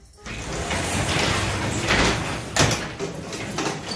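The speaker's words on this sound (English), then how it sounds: "I'm gonna show how easy it is now to open and close a garage door manually" A garage door is opened by hand, its panels rolling and rattling along the tracks in one sustained rumbling sweep with a sharper clunk near the end, loud and close, with no talk over it.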